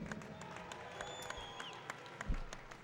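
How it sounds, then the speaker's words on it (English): A crowd at a boxing match in Cardiff claps steadily, the applause sustained and moderately distant, with faint voices and a brief thump near the end. "a round of applause for the gallant Johnny Greaves"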